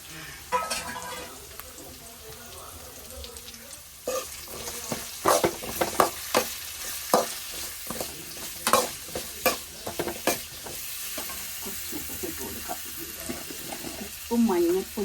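Chopped raw plantain sautéed and stirred in oil in a pan, with a steady sizzle broken by repeated scraping clatters of the spoon, close up, with occasional background speech.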